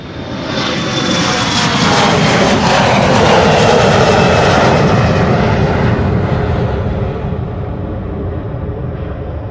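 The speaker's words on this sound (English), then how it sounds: "This one is going to Gdansk in Poland. Also an Embraer 175." An Embraer 175 airliner at Schiphol Airport roars loudly and close, its jet engines building to a peak and then fading slowly as it passes.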